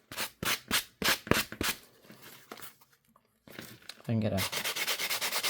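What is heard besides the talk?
sanding junk journal paper edges with a sanding block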